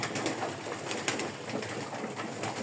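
Pigeons coo quietly in a loft of about 70 birds, including young ones, with soft rustling and fluttering mixed among the calls.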